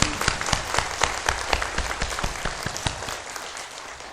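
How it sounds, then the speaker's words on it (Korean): A church congregation claps in thanks to God, a fairly quiet, rhythmic unison clapping with strong regular beats that gradually blur and fade toward the end. "우리 하나님께 감사의 박수하겠습니다"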